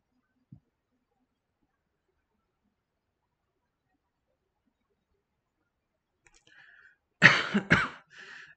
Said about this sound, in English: She coughs and struggles to speak.